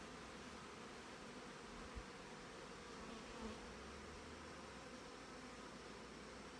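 Honey bees hum inside a hive brood nest in September, a dense, steady, close-up buzzing drone that holds constant and unbroken throughout.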